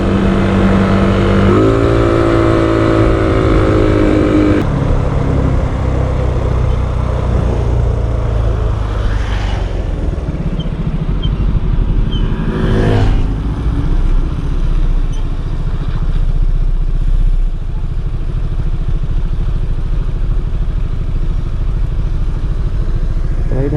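A Yamaha Mio 160cc scooter with a liquid-cooled engine and stock fan, running hot, drones loudly and continuously up close, with a couple of brief rises in pitch as the throttle shifts.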